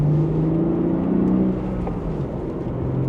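A 2025 BMW M3 with a manual gearbox pulls away gently from second gear, its engine note holding a steady, moderately loud drone that eases slightly halfway through as revs settle, heard from inside the cabin with no talking.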